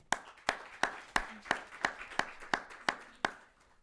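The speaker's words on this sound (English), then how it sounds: "Let's go ahead and give these students a big round of applause." Slow, evenly spaced claps, roughly ten crisp hits about a third of a second apart, from a small audience at a high school debate tournament semifinal, fairly close and without talk.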